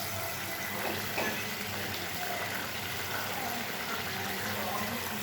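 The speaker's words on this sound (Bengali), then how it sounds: "ঝোলটা ফুটে গেছে, এবার মাছগুলো ছেড়ে দেবো এক এক করে" Fish curry gravy for an amudi fish oil jhal with potato and brinjal bubbles in a pot as fish pieces go in, a continuous close simmering hiss with no words spoken.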